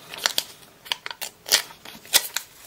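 Scissors snip through perforated vellum craft sheets with a quick series of crisp, close cuts, some paired in rapid succession, in an otherwise quiet room.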